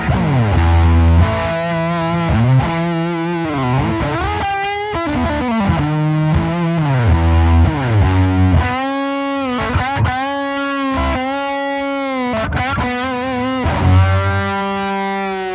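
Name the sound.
electric guitar through fuzz pedal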